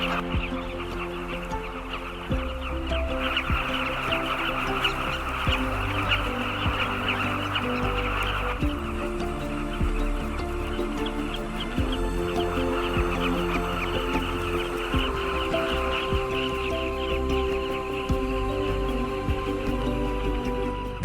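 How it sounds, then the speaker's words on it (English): A colony of southern carmine bee-eaters calls along the Zambezi, a dense, continuous chorus of overlapping chirps and harsh notes from many birds, loud and steady with no voices. "Colonies of southern carmine bee-eaters have arrived on the Zambezi."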